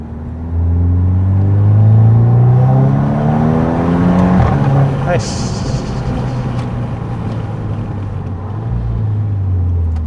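Engine of a 2014 Volkswagen Scirocco R heard from inside while driving, a loud low rumble with rising revs through a gear change and a steady cruising drone, with brief speech from occupants.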